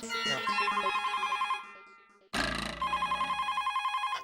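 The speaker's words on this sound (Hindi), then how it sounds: "ओ रामजी काका का फोन आया वापस" A telephone ringing in steady trilling bursts, loud and close, with a short pause before it rings again.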